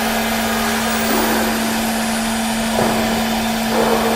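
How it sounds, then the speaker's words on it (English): A CNC router spindle on a woodworking machine runs with a steady, even hum and a high whine, with faint shifts in pitch over a few seconds. "It means spindle running."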